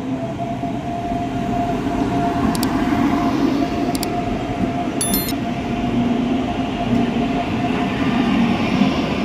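The 12746 Secunderabad SF Express runs between Bhadrachalam Road and Charlapalli with a steady loud rumble of wagons on rails, heard from on board. A constant low drone runs throughout, with a few brief high squeaks.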